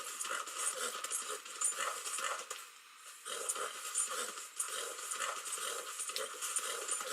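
Horse hooves clip-clop in a steady walking rhythm as the animal is ridden, fairly faint and distant, with one brief pause partway through.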